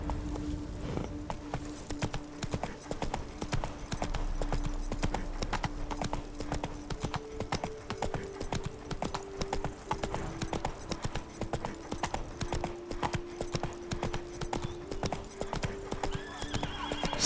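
In The Witcher 3: Wild Hunt, Geralt's horse Roach gallops, a fast, even clip-clop of hooves that continues throughout, close and steady, with a tonal musical drone underneath and a brief whinny.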